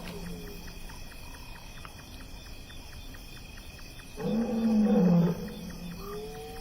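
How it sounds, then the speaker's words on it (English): A male lion roars at night across a valley, a single deep, drawn-out call that sits well back in the distance over a steady chirping of crickets and insects. "Distant roars echo through the cool night air. Their male is calling, the sound carrying almost 5 miles across the valley"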